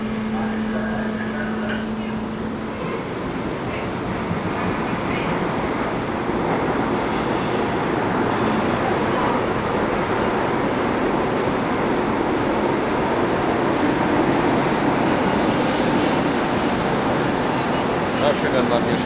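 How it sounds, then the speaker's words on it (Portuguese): Metro train ride on the Rio de Janeiro subway arriving at Afonso Pena station: steady loud rumble and rail noise throughout, with a faint tone early on. "Chegando na minha estação, na Ponte Pena, muita adrenalina aí no metrô."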